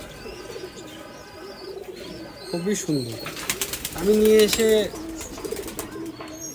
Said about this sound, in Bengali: আন্ধ্রা কবুতর